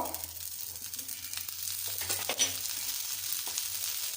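Chickpea cutlets fry in shallow oil in a pan, a soft, even sizzle close by with a few faint scrapes as they are moved.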